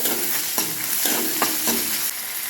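Onion with a thecha of chili and ginger fries in a hot tempering for mung amti, a dense, loud hiss of sizzling oil broken by a few rhythmic stirring scrapes, close up and without speech.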